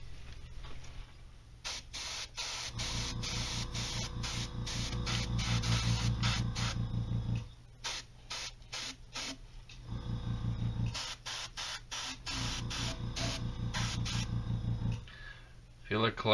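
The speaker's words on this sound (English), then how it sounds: "I'm gonna put it in my little airbrush color cup and spray" An airbrush spraying paint from a small color cup onto a model shuttle, close hissing bursts of varying length separated by short pauses, with a faint mechanical whine between sprays.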